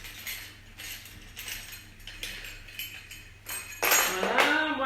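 An EasyCookie cookie press gun is being loaded, giving a run of close mechanical clicks and ratcheting rattles, then a louder scraping clatter near the end; no one speaks.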